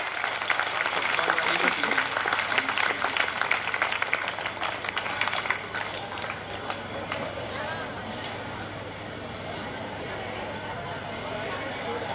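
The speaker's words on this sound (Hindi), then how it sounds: "आप सभी तालियां बजाकर इनका स्वागत करें।" Students and guests at a school annual function clap to welcome state championship winners, brisk dense clapping for about six seconds that then thins into quieter crowd murmur, with a voice speaking over it.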